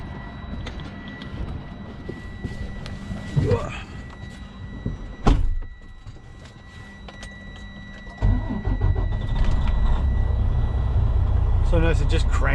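A truck engine cranks and turns over in the cab, with a door thunk and clicks along the way, then settles into a low steady idle rumble, while a person talks intermittently over it.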